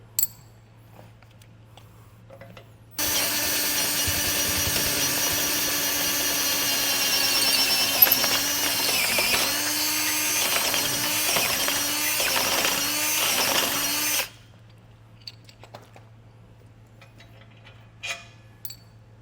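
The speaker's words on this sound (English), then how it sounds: "I need to get this drilled out so we can pass our carriage bolt through." Power drill boring out a hole in the frame of a 2021 Jeep Wrangler Unlimited for a carriage bolt, a loud steady whir running about eleven seconds with pitch dips as the bit bites, then stopping abruptly into near silence.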